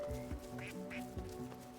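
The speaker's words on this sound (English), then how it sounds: "I hear the ducks just..." Ducks quack repeatedly in the video game Dungeons of Hinterburg, a rapid run of nasal calls over a steady background hum, soft and somewhat distant.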